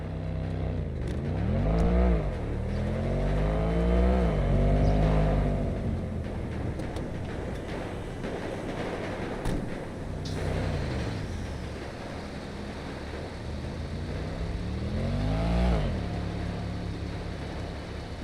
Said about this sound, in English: how did you get the real car sounds?